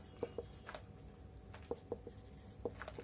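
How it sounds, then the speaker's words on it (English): A pen or marker writes out a calculus integral equation, producing short scratchy strokes in small clusters with pauses between, close and quiet with no talking. "Let me write this down."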